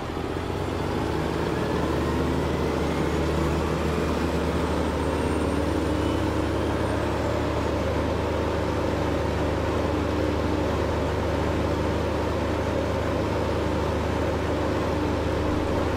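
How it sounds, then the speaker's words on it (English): Ursus diesel tractor engine in Farming Simulator 2015, a steady low idle-like drone that holds unchanged throughout, fairly quiet and continuous with no talk over it. "I really, really like the sound of these Ursus tractors. They really, truly sound like a proper diesel tractor."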